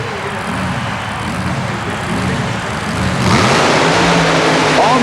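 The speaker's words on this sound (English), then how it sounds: "the psychotic beast, supercharged, fuel-injected, Chevy-powered 1927 Ford" A supercharged, fuel-injected, Chevy-powered 1927 Ford mud racer roars under hard acceleration at a Long Island mud race, its engine noise building loudly and continuously with crowd and commentary-like voices mixed underneath.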